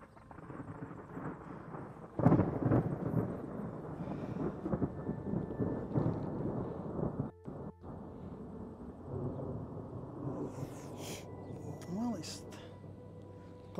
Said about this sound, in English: Thunder's all around me.